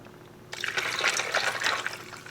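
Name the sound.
pouring hot rose hibiscus tea over ice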